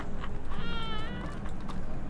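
A cat meows once, a drawn-out mid-pitched cry, over a dense, buzzy background of game sound.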